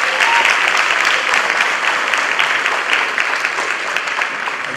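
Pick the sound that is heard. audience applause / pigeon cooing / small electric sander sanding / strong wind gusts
audience applause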